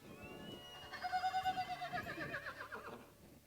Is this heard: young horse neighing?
yes